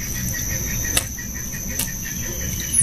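Crickets chirp steadily in a quiet outdoor setting, a constant high trilling with a couple of brief louder clicks.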